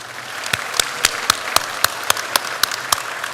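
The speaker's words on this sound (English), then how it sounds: "One round of applause again." Sparse, evenly spaced sharp claps, about ten over a few seconds, ringing out over a soft background hum rather than full crowd applause.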